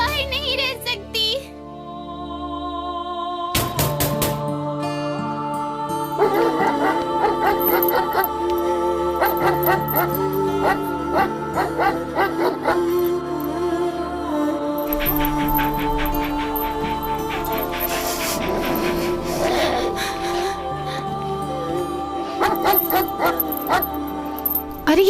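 A dangerous pet dog yips, barks and whimpers in short bursts, partly buried under continuous loud music.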